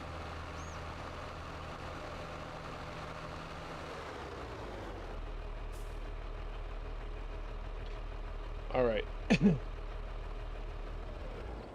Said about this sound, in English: So I'm going to turn off the engine.